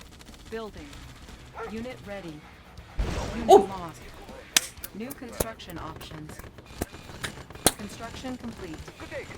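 Red Alert 2 battle sounds come as a burst of explosions and rapid gunfire, then sharp scattered blasts, all under excited talking that runs through the whole stretch.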